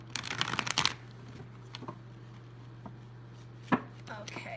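A deck of large, stiff oracle cards shuffled by hand: a quick burst of crisp riffling and slapping at the start, then sparse faint taps and one sharp card snap, near and alone.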